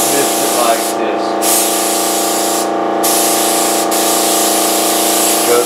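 Spray gun misting a light, quick-drying coat onto a fuel tank mold, a steady loud hiss of compressed air running throughout with a couple of brief dips.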